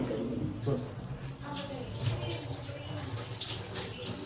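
Tap water runs in a steady wash as potatoes are rinsed, a moderate continuous splash with occasional clatter, while people talk over it.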